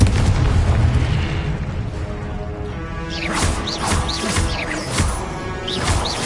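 Spell explosions burst in the Hogwarts Legacy video game combat, heavy booming blasts under continuous rumbling battle noise, with several sharp whooshing bursts in the later seconds.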